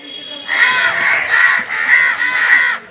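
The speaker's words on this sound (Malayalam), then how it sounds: "അയ്യോ കാക്ക" A crow caws four or five times in quick succession, each call harsh and nasal. The bird is close and loud, with no other sound between the caws.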